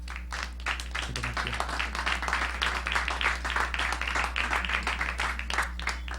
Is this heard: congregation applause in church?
yes